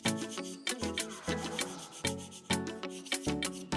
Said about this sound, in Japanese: まずは粗めのヤスリで一気に削っていきます。